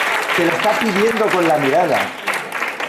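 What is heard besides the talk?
audience applause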